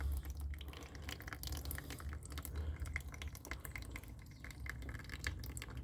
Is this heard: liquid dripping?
yes